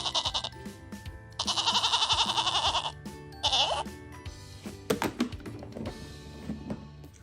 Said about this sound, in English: Our next one is a goat.